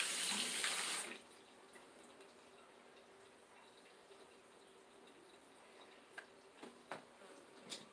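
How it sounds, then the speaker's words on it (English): A faucet runs into a sink for about a second as something is rinsed, then shuts off, leaving faint drips and small clicks in a quiet room. "So what I'm going to do is rinse this off really good."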